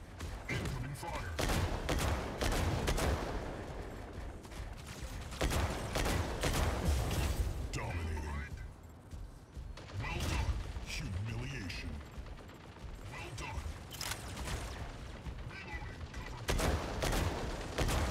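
Weapon fire in the mech combat game Mech Arena: loud, dense bursts of rapid shots that run almost without a break, with a faint game voice now and then.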